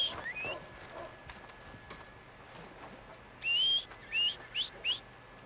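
A horse in the video game Red Dead Redemption whinnies and snorts in a series of short rising calls near the end, following quieter clip-clop and ambient outdoor sounds in the game.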